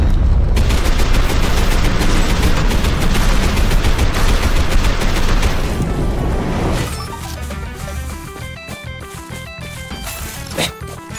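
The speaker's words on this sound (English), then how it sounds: "Shotgun." Shotgun fire in the Selaco video game: a dense, loud barrage of blasts fills the first several seconds, then gives way to scattered clicks and lighter game noise.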